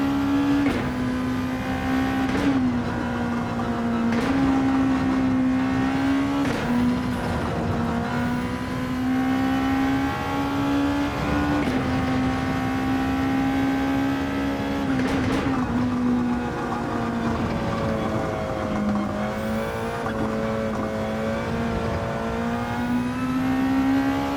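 Race car engine in Gran Turismo 7 during an endurance race, a loud sustained drone with steady pitch that dips and climbs through gear shifts and turns, continuous and close with no speech.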